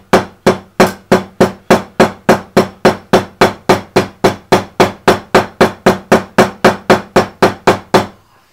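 A cobbler's hammer taps glued leather in a steady run of about thirty sharp, evenly spaced strikes, loud and close, with no talking.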